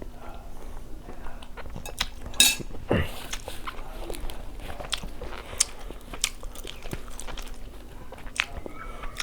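Someone eating spicy straw mushroom curry in big bites, with close wet chewing, crunchy bites and small clicks over a quiet background hum.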